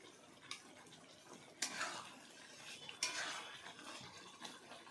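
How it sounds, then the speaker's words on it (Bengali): A spoon stirs sweet, sour and spicy raw mango pickle, with ground roasted spices and melted sugar, in a pan. Quiet scraping strokes sound in a few distinct bursts over a soft wet background. "আমের সঙ্গে ভালোভাবে মিশিয়ে নেব।"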